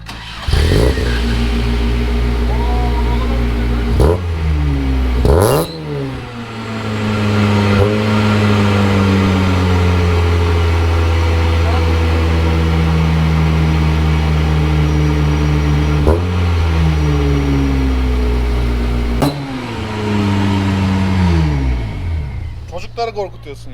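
A swapped car engine turns over and catches on a cold start, then revs hard in repeated loud surges, idling between bursts, with people talking and laughing over it.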